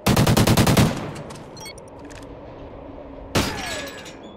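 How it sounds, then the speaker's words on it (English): A rapid burst of automatic gunfire fired through a wall in a video game opens loud and close, followed by quieter game noise and a single sharp crack later on. "He's pre-firing the wall."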